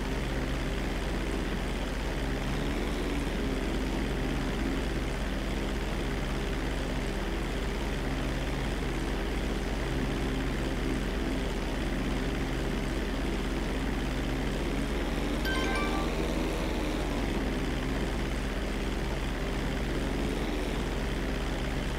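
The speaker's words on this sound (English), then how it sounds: "So Trevor flew his plane to North Yankton" A propeller plane flies in Grand Theft Auto V, its engine drone steady and loud for the whole stretch, with a faint tonal whine sweeping through midway and no talk over it.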